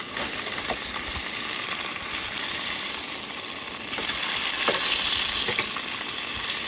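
A snapper fillet frying in a pan gives a loud, dense, continuous sizzle, with occasional scraping clicks of a utensil against the pan.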